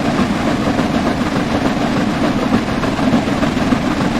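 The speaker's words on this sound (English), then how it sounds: "It's also incredibly loud, but then that's like normal for a steam engine, isn't it?" Simulated Flying Scotsman LNER A3 steam locomotive in Train Sim World 4, running alongside another train with a loud, steady, close rumble and rhythmic rail noise; no speech.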